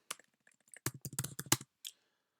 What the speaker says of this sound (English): So let's type it.